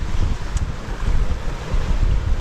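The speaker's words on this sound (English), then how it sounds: "This wind we got now," Strong wind roars across a sailing boat at sea off New Zealand's rugged west coast, with the rush of waves mixed in. It is a loud, continuous, buffeting noise with no voices.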